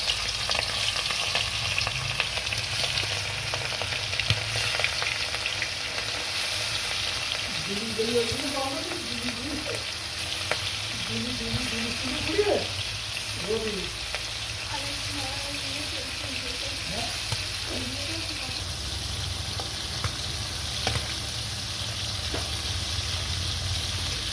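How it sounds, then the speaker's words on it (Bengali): Shrimp fry in hot oil in a wok, a steady loud sizzle filling the whole stretch, with occasional stirring clinks and faint pops over the crackle. "কড়াই তেল দিয়েছি, গরম হয়ে গিয়েছে। চিংড়ি মাছগুলো ভাজা করে নিই।"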